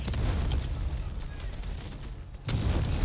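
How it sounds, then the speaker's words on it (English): Artillery strike in the shooter game Delta Force: Hawk Ops, a dense roar of rapid blasts and rumbling gunfire that drops briefly before slamming back in loudly, with a faint voice underneath. "Artillery cover coming. Get ready to engage."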